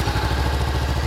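Exhaust note from a 2013 Honda CB400X (NC47) motorcycle muffler, a close, loud idle with a rapid, even low-frequency pulse throbbing steadily throughout.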